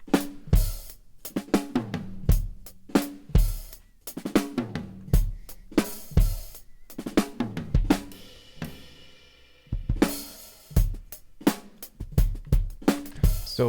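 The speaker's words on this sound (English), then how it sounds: "we've also got an acoustic kit from Superior Drummer 3" An acoustic drum kit from Superior Drummer 3, processed to hit louder, plays a steady rhythmic groove of sharp kick, snare and cymbal hits, with a brief break near the end before the pattern resumes.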